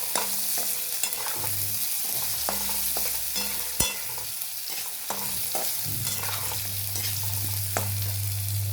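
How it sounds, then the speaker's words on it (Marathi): Drumstick (moringa) pods being stirred and sautéed in a pan make a steady close sizzle, with frequent spoon scrapes and clinks at irregular intervals and a low hum underneath. "अशा शेवग्याच्या शेंगा त्यामध्ये टाकून त्यामध्ये छान असं परतून घ्यायचं."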